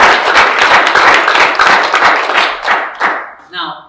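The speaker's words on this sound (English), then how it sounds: "let's give an applause for Pat." Audience applause for Pat at a gathering: a burst of close, lively clapping from a group that thins out and fades after about three seconds, with a voice starting near the end.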